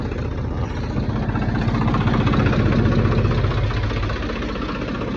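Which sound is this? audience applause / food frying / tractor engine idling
tractor engine idling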